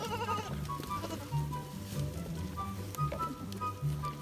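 Sheep on a farm bleat repeatedly and fairly close, several overlapping calls over a steady background of livestock noise and rustling.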